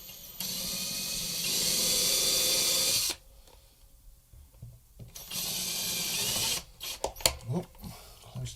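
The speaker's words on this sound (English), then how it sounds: "I'm just doing the last couple of pilot holes now" A power drill drilling pilot holes for a guitar build whines in two steady bursts of a few seconds each, separated by a quiet pause, followed by some clicks and handling noises.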